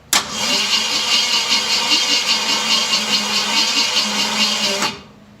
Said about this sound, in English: Ooh, it cranks. That starter's gonna work.